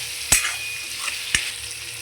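Curry leaf masala roasting in a pan, with a soft continuous sizzle broken by two sharp, close spatula clacks against the pan, about a second apart.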